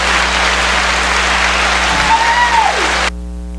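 A canned applause effect from a clap button during a podcast, a steady hiss of many clapping hands at even loudness that cuts off abruptly near the end, with a brief voice under it.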